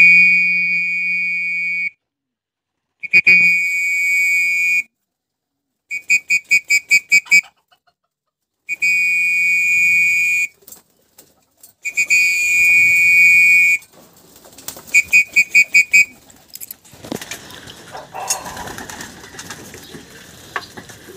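Repeated shrill human whistle blasts in short bursts and rapid trills as pigeons are given boiled oregano water to drink, followed by the pigeons fluttering and cooing nearby.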